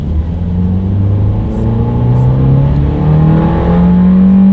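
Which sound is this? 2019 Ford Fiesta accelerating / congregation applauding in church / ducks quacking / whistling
2019 Ford Fiesta accelerating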